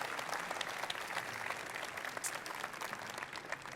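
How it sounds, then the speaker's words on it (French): Audience applause for a guest at a Salesforce Einstein presentation in French, a fairly soft, even patter of many hands clapping that holds steady for the whole stretch with no voices on top. "on peut l'applaudir"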